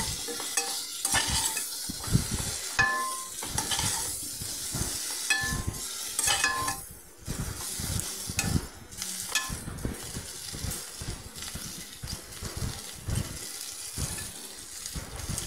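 Chopped boiled potatoes are stirred into a pan on a low flame with a little oil, producing close, repeated scraping strokes over a steady gentle sizzle.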